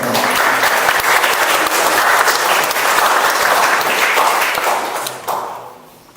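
A crowd at a wedding breaks into steady, dense applause that carries on for several seconds before tapering off near the end.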